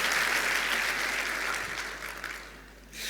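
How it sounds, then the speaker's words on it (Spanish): Church congregation applauding children at a service, a broad wash of many hands clapping that is loud at first, then gradually thins and fades out near the end. "Demos el aplauso a todos los chicos que vinieron hoy día."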